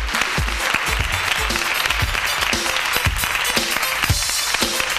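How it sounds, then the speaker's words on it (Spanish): A television studio audience claps loudly to welcome Pedro Ruiz, dense rapid applause that runs the whole time with light sounds from the crowd. "vamos a recibir con un fuerte aplauso a Pedro Ruiz"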